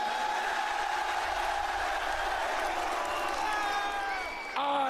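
A large arena crowd at a wrestling show in Riyadh, Saudi Arabia, holds a sustained roar of cheering and whistles, which drops briefly near the end before swelling again.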